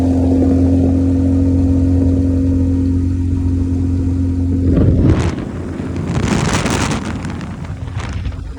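A car is driven near Harihareshwar, its engine holding a steady mid-pitched hum for several seconds before the tone breaks into rougher rumbling and wind buffeting as it moves on, fairly loud and close, without speech.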